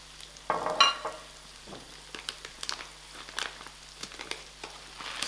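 Risotto rice sizzles in a pan of oil for seafood paella, a close crackling fry with soft scraping stirs and gentle patter, fairly quiet and steady.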